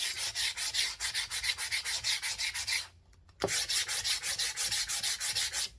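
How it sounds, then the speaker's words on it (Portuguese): Hand sanding of painted wood furniture with sandpaper, a steady rapid back-and-forth scratching rhythm, close and loud, with a brief pause and a single knock midway before the strokes resume. "Onde eu quero clarear mais, eu lixo mais, ó. Aqui eu posso lixar mais."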